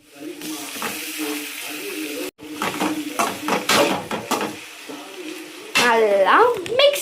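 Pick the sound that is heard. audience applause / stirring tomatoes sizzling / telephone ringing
stirring tomatoes sizzling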